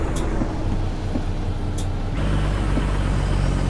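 A truck rolling down the road downshifts: its loud, steady engine drone drops and changes character partway through, with a couple of brief hissing bursts on top.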